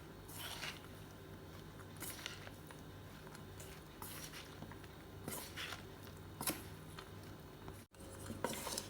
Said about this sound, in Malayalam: ഇതെല്ലാം ചേർത്ത് ആദ്യം 1 സ്പൂൺ കൊണ്ട് എല്ലാം കൂടെ ഇളക്കി മിക്സ് ചെയ്യാം.